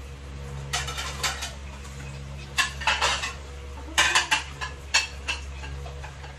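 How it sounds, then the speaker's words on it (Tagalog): Plates and dishes clatter in scattered bursts, sharp clinks of crockery knocked together against a low steady hum. "mag-ready na tayo ng mga pinggan-pinggan natin"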